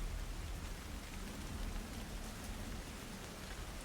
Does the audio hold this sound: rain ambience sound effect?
yes